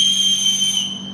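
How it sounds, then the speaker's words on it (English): A long, steady whistle blast signals cease fire during a US Army National Guard combat patrol training exercise on Guam, loud and unbroken for the whole moment with no talking. "On the long whistle means to cease fire."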